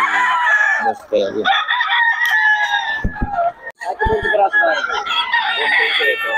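A Boston Sweater gamefowl rooster crows loudly and close by in a long, drawn-out call, among clucks and other fowl, while someone talks over it in Filipino.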